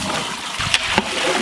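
Water poured into a cooking pot holding goat head and legs for Peshawari siri paye, a short splashing pour with two sharp knocks of vessel contact over a background hiss, no speech.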